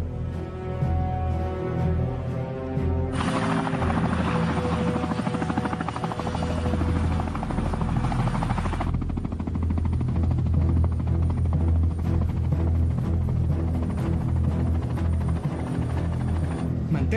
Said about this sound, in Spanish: Usted irá hasta la fosa con el helicóptero